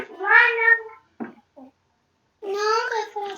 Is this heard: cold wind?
no